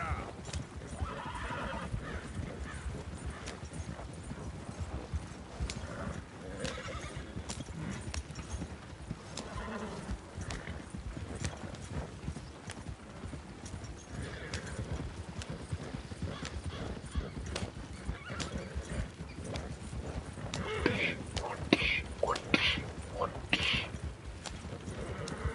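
Horse neighs and steady hoof clip-clops from a horse in Red Dead Redemption 2, with whinnies rising near the end over a continuous bed of game ambience and someone talking throughout.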